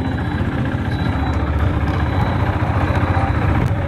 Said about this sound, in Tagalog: i-ride test ngayon natin tong KTM sports bike na RC390 mga pare